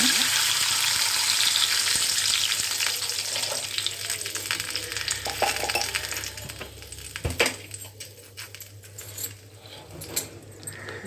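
A large glass of water pours into a hot pan while making upma, with a loud hiss and bubbling, fading over several seconds into softer crackling and a few light clinks.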